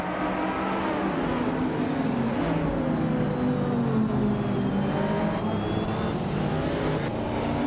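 Video game race cars at Knockhill, led by a 1994 Nissan 300ZX, drone and rev loudly together in a steady dense engine roar with shifting pitches throughout.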